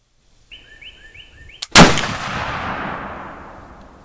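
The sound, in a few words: muzzleloader rifle shot with Triple Seven pellets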